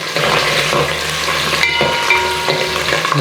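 Crushed garlic, curry leaves and cumin frying in oil with spice batter for dal khichdi, a dense steady sizzle close by with a faint stirring scrape, brief and free of speech.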